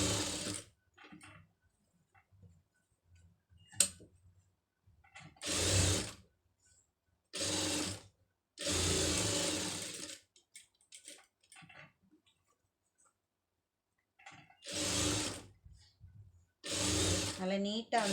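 A sewing machine stitches the border of a designer blouse in several short bursts separated by pauses, close and clear, with someone talking quietly between the runs.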